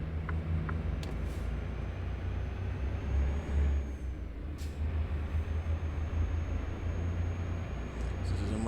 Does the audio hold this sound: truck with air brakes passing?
yes